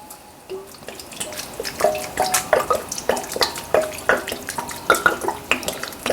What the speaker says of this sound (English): I'm gonna add some water